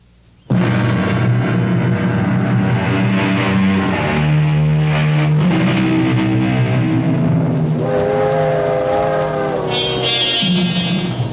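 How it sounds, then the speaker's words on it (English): A train whistle in an old radio mystery drama sounds long, steady, harmonic tones that shift in pitch and carry through the whole passage before thinning out toward the end, as if receding into the distance. "the sound of a train whistle fading into the distance"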